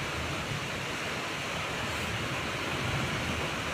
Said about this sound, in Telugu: మీ ఏరియాలో కూడా ఇలాగే వర్షం ఉందా?